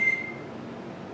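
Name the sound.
phone notification beep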